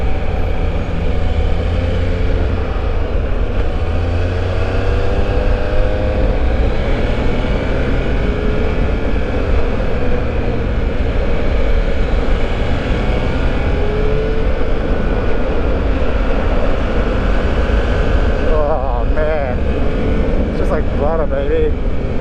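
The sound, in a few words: Triumph Speed Triple 1200 RS motorcycle engine accelerating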